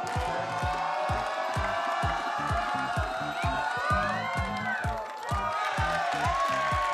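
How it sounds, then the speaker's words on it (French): A studio audience at the Quebec lottery game show La poule aux oeufs d'or cheers and claps, a steady lively crowd roar with whoops, loud and continuous throughout. "Je laisse la foule s'exprimer un peu."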